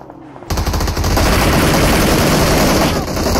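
Sustained automatic gunfire from the mobile battle royale game PUBG Mobile, erupting suddenly after a quiet half second and continuing loud and dense to the end, with a brief dip near the close.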